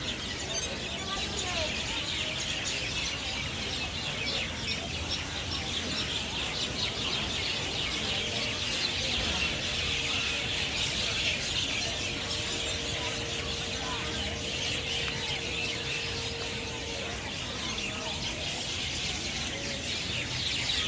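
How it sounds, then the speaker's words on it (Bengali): Birds chirp and twitter continuously in the open air of a park, a dense busy chorus over steady background noise, with a voice talking faintly now and then. "আর এইখানে তো জাস্ট হচ্ছে মানে কিচিরমিচির শব্দ এত পরিমাণে"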